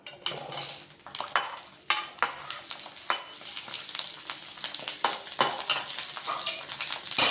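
Ivy gourds stir-fry in a masala in a pan, giving a busy sizzle broken by repeated scraping and clattering stirs that come in uneven bursts, close and fairly quiet.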